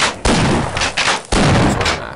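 Weapon fire in the video game Half-Life bursts out in two loud, close blasts with rough rumbling tails, one right after the other.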